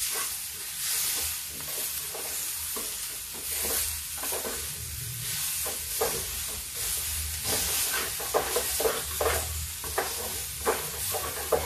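Cabbage and potato sizzle as they fry in a pan on a gas stove, with a steady hiss under repeated scraping strokes as the vegetables are stirred, close and clear, with no talking.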